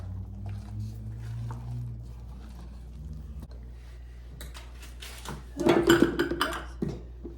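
Apple bundt cake batter made with eggs and sour cream is stirred in a bowl, giving soft wet squishing and scraping sounds with utensil clinks that grow louder and busier toward the end, over a low background hum.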